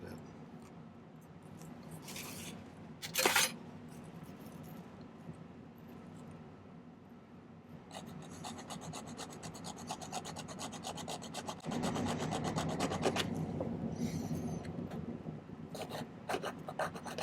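A metal file rasps steadily across silver pendant wire to shift a notch. The close scraping strokes run fast and continuous, growing louder and denser partway through, with a brief clink near the start and no speech.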